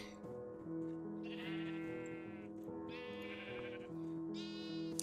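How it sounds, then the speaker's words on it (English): Sheep in a modded video game bleat in a herd, several loud, close, drawn-out calls overlapping one after another over a steady tonal game background. "We've got a nice little herd of sheep started."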